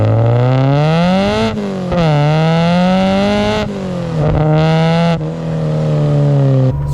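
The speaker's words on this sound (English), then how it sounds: "it sounds very raspy when you give it some" A Ford Escort Mk2 van with a Focus ST engine idles loudly up close and is revved several times, the raspy exhaust note climbing and dropping, with no talking.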